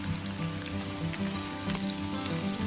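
Rain falls steadily through the mountain forest of Mount Gede, a dense, even patter of drops on leaves and ground with no voices.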